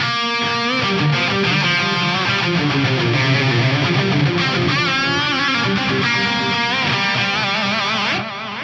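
An electric guitar through a plate reverb and delay effect plays sustained, gliding notes that smear into a lush, spacious wash of echoing repeats, ringing on before fading at the end.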